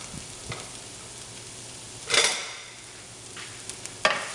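Garlic toasting in a skillet gives a soft, steady sizzle, broken by a few louder stirring scrapes and clinks of a utensil against the pan, with no talking.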